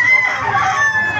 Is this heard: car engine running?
no